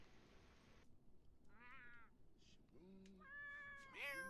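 Cat meows in The Sims 4, several short tonal mews and a rising call against a quiet game background with a faint ambient hum.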